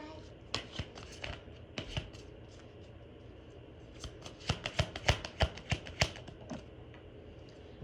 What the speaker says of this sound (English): I seen this card twice as I was shuffling.